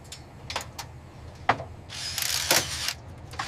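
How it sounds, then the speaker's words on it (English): A ratchet clicks in short bursts as it tightens the final clamp on the primary heat exchanger of a bus on a European coach factory line, with a longer rasping stretch mid-way over a low hum. "Almost, just tightening the final clamp."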